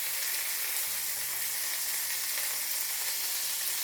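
Food fries in a hot pan just after being turned over, with a steady, loud sizzle that holds throughout and no voices.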